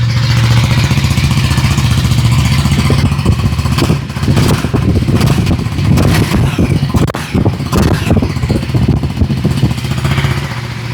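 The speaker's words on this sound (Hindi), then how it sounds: "तो ये था आपका एग्जॉस्ट का साउंड।" KTM 390 Adventure X Plus from 2025 idling with its underbelly exhaust, a steady, loud low engine drone with faint revving pulses through the middle, heard up close with no talk.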